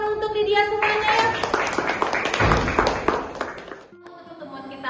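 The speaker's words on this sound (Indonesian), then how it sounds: "Kasih tepuk tangan untuk Lydia semuanya ya" Students in a classroom clap for a classmate, a dense burst of hand claps over a few seconds mixed with voices, fading into a brief lull before a voice resumes.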